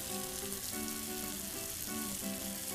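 Meatballs sizzle and fry steadily in a pan, a continuous close crackling hiss that holds at an even level throughout, with no voices.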